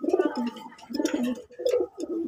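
Fancy pigeons cooing at a Bangladeshi pigeon farm, a series of close, soft throaty coos in repeated bursts with short pauses between them.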